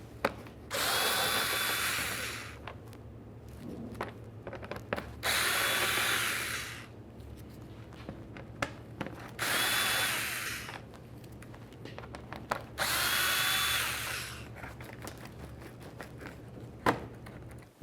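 A power drill spins out Phillips screws from the bumper cover inside the wheel well of a 2012–2018 Nissan Altima, four loud whirring bursts of about two seconds each, separated by clicks and handling sounds over a low steady hum.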